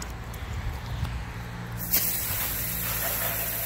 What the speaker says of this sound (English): so now we're going to start our rinse process down here.